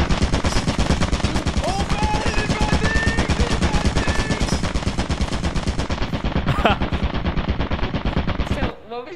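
Rapid automatic gunfire rattles nonstop in the video game Lethal Company, dense loud bursts for several seconds before cutting off, with voices talking underneath.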